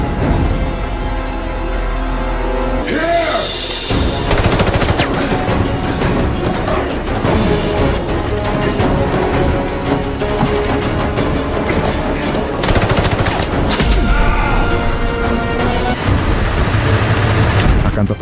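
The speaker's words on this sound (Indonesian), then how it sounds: "Tantangan itu disambut Hugo dengan menembak tanpa henti sambil mengejarnya." Sustained, loud automatic gunfire and explosive bursts fill a tunnel shootout in a Rambo action film, dense and nearly continuous with a dramatic score beneath.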